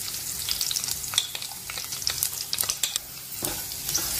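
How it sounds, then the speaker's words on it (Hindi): Chana dal and urad dal fry with green chili in a pan, a close, crackling sizzle broken by scraping stirs and quick spattering clicks. "अब ये हल्का सा थोड़ा इसमें कलर आ जाए तब तक इसे हम भूनेंगे।"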